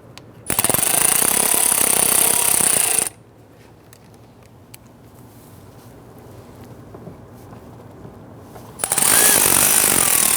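A power tool drives screws into the window regulator of a 2011-2019 Ford Explorer, two loud rattling, ratcheting bursts of a few seconds each close by, separated by a quieter pause with faint handling noise.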